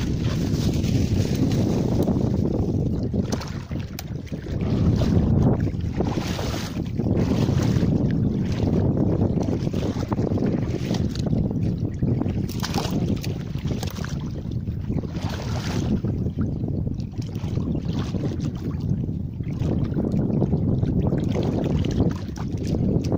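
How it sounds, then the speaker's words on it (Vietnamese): Strong wind buffets the microphone on the Dong Nai River during fishing from a small boat, a steady roaring rumble with gusty surges lasting the whole stretch and no voices. "Gió ghê thiệt."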